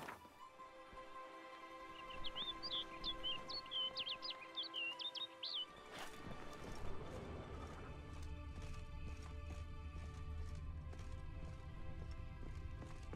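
A bird chirps in quick high twittering bursts for a few seconds in The Witcher 3 video game, heard over a soft background of ambient music and hoofbeats.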